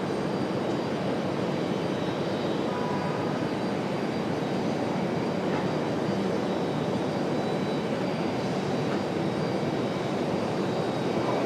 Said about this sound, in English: Nice smooth arrival for the E190